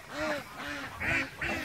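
Ducks quack close by, four loud nasal calls in a quick, uneven series, with no other sound competing.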